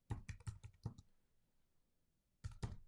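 Keys on a computer keyboard are typed in a quick burst of close clicks, then a pause, then a few more keystrokes, all quiet with no voice.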